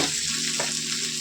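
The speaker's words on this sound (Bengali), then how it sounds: "এখন আলুগুলোকে ভাজা হয়ে গেছে, আর পেঁয়াজটাও কিন্তু এর সাথে একটু প্রায় ভাজা হয়ে এসেছে" Potato pieces and onion fry together in oil in a pan, giving a brief, steady, close sizzle without any voices.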